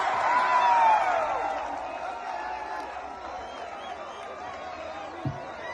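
Large crowd gathered at an outdoor political event in Utah, a broad murmur of many voices with scattered shouts and a whistle-like call early on, plus a brief knock near the end.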